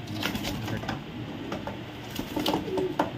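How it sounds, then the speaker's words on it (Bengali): Racer pigeons, young adult red checker pied birds in a loft, coo softly and repeatedly at close range, with low throaty calls and light rustling throughout. "এটাগুলো একদম নিউ অ্যাডাল কবুতর, এটা 6-7 পরের কবুতর, একদম নতুন কবুতর"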